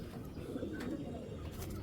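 Low, rolling coos from a Giribaz tournament pigeon kept in a cage, a soft throaty murmur sounding close by and continuing through the moment with light background hiss.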